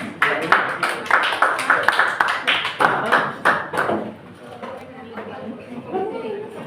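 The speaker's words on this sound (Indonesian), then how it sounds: "Cepat sekali presentasi dari kelompok 5 ya, kita beri tepuk tangan." Classmates clap for a group presentation in a school lesson, a burst of close, fairly loud sharp claps for about four seconds that then thins into a few scattered claps and soft murmuring voices.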